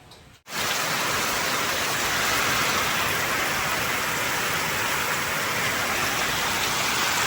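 Heavy morning rain pours steadily after an all-night downpour, a dense, loud, unbroken hiss of water on surfaces that starts abruptly and continues without letup.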